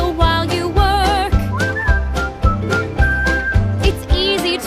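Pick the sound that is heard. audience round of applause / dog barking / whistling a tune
whistling a tune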